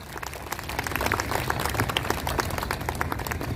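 A seated audience at a senior citizens' association event in Rahatani, Pune, claps softly and steadily, a light patter of many hands throughout.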